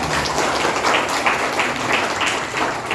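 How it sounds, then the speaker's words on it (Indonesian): Children clapping together in a parish gathering, a steady, fairly loud patter of many small hands with slight rhythmic surges throughout. "tepuk tangan dulu dong"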